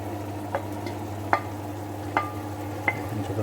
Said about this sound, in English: Okay, so now back goes the onions.